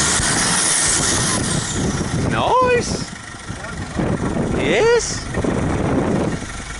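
Engine rumble from a vehicle in the Hillbilly Deluxe driving game runs steadily through the whole stretch under loud, chatty talk and laughter.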